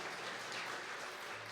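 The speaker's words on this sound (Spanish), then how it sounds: "Denle el aplauso a él" Congregation clapping during a church service, a continuous wash of many hands applauding in a large room, sustained and fairly faint throughout the short moment.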